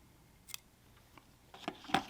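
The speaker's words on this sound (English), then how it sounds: "Just snip that off." Scissors snip off fly tying material in a few faint, crisp cuts, quiet and close, with one small click near the start and louder snips at the end.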